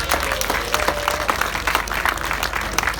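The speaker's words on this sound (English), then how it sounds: "So I think another little clap for my 9 woolly friends there." An audience at an agricultural show's sheep display claps for nine woolly sheep, giving a moderate, irregular patter of many hands over a few seconds with a faint murmur beneath.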